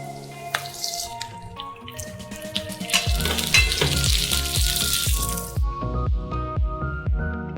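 Chopped onion and capsicum hitting a hot pan and frying, a crackling sizzle that swells loud and steady, with rhythmic stirring and scraping clatter through the second half.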